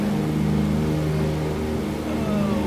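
The big radial engines of a DC-3 airliner drone steadily in a flight simulator, a loud, close, humming roar with sustained tonal layers, heard alone without voices.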